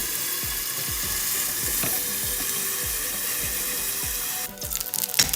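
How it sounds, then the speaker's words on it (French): Gyoza frying in a pan as water is poured in, a steady loud sizzle with rhythmic low knocks, turning into a sharper, more agitated hiss near the end. "on peut rajouter un peu d'eau."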